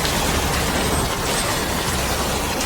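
Steady rain pours down in a dense, even hiss that fills the whole stretch without pause, loud and close, with no voices.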